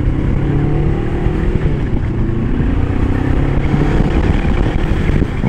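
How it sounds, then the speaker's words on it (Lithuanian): A 2025 Moto Morini Calibro Bagger 700cc motorcycle engine runs loud and close, a steady rumbling drone with slight rises in revs throughout, no voices over it. "Variklis tai mėgsta sūkius"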